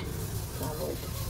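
Green bean and potato curry bubbling in a pan with added water, a short burst of close, steady sizzling and low simmering.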